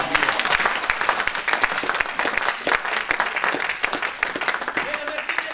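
A church congregation applauds in a dense, sustained burst of clapping that rolls on with uneven swells, voices mixed in among the crowd.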